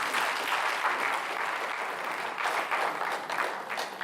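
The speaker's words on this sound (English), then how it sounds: "Please let's give her a round of applause." An auditorium audience at a university inaugural lecture applauds a Professor of Development Economics, many hands clapping in a continuous, even wash that rises slightly near the end.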